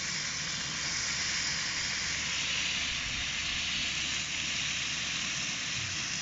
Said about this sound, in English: Right, we'll let this bacon finish off and then I'll get the eggs on.